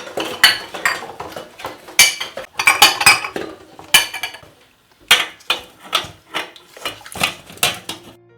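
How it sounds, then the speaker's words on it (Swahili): Dishes being washed at home, with cutlery, plates and pots clinking and clattering in quick irregular bursts that keep up throughout, close by and fairly loud, with no talk over it. "nenda kaoshe vyombo kule"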